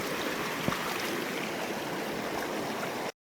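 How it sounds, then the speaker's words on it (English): A creek in a vast wetland streams steadily with an even, close rushing wash for about three seconds, then cuts off abruptly. "There's a creek."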